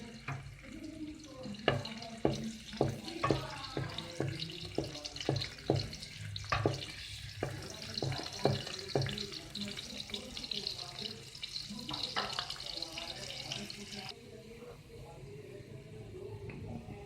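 Chopped garlic frying in hot oil in a home kitchen, a close, steady sizzle broken by dense crackles and sharp spattering pops that thin out toward the end.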